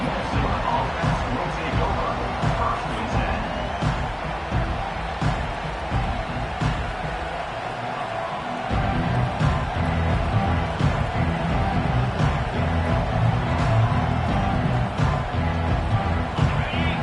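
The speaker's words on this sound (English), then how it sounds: "They are pinned deep, and this crowd is letting them have it." A stadium crowd at a college football game roars and jeers loudly and continuously, a dense wash of voices that swells louder in the second half as the opposing offense is pinned deep.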